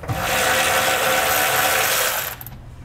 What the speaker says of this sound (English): We're going to be removing that bolt so we can pull our factory jounce stop out.